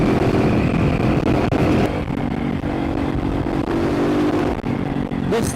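A RUSI Classic 250 motorcycle with a 28mm carburetor revs steadily in third gear, its engine drone loud and close and holding a continuous pulling tone throughout, with wind rush around it.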